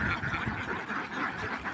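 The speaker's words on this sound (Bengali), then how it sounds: "আর এই তো আমাদের হাঁসের খামার, এটা হলো আমার দাদার হাঁসের খামার।" Ducks at a duck farm quacking in a dense, overlapping flock chorus, loud and close, continuous throughout the short stretch without talk.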